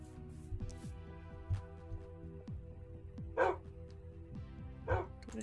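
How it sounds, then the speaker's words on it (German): Blocky dogs in the Minecraft video game bark in short, separate yips at a moderate distance, sounding over a layer of game background music. "Ja, Hundis."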